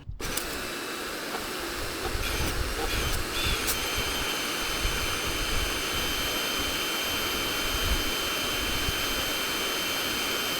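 Karcher K2 pressure washer jetting water across a small concrete slab, a steady loud hissing roar that runs unbroken throughout with a few faint clicks, no voices.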